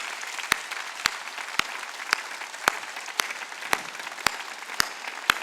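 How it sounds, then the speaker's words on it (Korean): A church congregation during Sunday worship claps in a slow, steady rhythm, about ten evenly spaced sharp claps over a faint background of murmur. "박수 치래."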